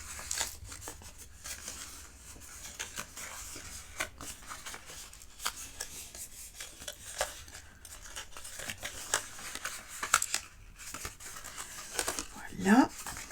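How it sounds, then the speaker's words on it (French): Freshly cut paper for a four-drawer gift box is creased and scored, with crinkling and light papery scraping in irregular bursts under quiet talk throughout. "je viens d'abord marquer mes plis"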